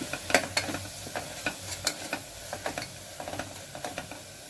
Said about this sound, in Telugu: ఇది కూడా పచ్చివాసన అంత పోయేంత వరకు వేయించుకోవాలి